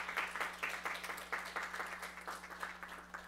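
A church congregation at a Sunday service applauds to welcome newcomers, a fairly faint, steady patter of many hands clapping together over a low hum, with no speech.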